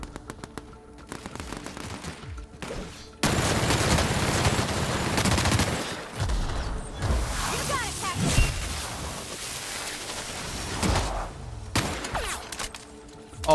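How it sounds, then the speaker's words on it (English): A plasma light machine gun firing in The Outer Worlds, loud sustained bursts of rapid fire mixed with impacts and game noise, with voices speaking around the shooting. "Plasma light machine gun."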